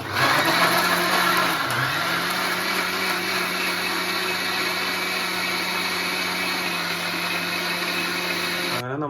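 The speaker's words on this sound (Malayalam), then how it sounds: "ഫസ്റ്റ് നമുക്ക് ഈ മാമ്പഴം ഒന്ന് മിക്സിയിലടിച്ച് ക്രീം പരുവത്തിലാക്കി എടുക്കാം" A kitchen mixer grinder whirs steadily as it blends mango into a creamy pulp for homemade ice cream, a loud continuous motor drone with a slight pitch dip near the start, cutting off abruptly at the end.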